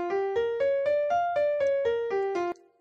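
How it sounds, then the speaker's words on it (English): A minor scale picked out note by note on a keyboard, about nine evenly spaced tones stepping upward and back down, clear and close with no talking. "that is a minor scale."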